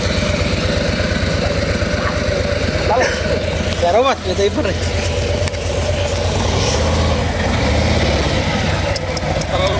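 Motorcycle engine idling close by, a steady loud low rumble running throughout while people talk and shout over it.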